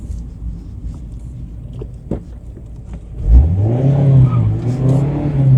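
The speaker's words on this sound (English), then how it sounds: "we'll see if we can get in a 0 to 60." A 2024 Mazda MX-5 sits idling with a few faint clicks, then its engine roars up sharply as it launches from 0 to 60, the pitch climbing steadily through a loud, close acceleration.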